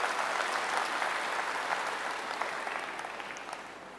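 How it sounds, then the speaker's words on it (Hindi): An audience at a health talk breaks into steady applause for a guest stepping onto the stage, dense clapping that gradually thins and fades over a few seconds. "हाँ ताली तो बजा दो, भाई स्टेज पे आए।"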